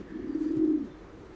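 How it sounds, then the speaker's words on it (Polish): A racing pigeon stud cock of the Wanroy line, among calm selected breeding pigeons, gives one low, soft coo lasting under a second, close by, with no other sound. "Patrz jak, jakie spokojne te gołębie są"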